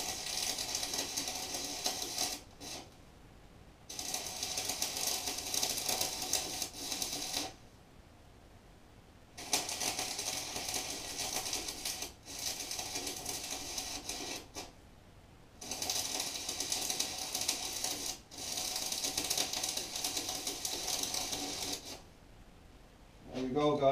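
Welding bursts crackle and buzz in several on-off runs of a few seconds each, separated by short quiet gaps, a close and steady electric hiss.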